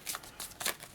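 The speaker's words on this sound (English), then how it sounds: "a quick shuffle." Tarot cards being shuffled by hand, a quick burst of crisp papery riffles close up, several short rustling strokes in about a second with no voices.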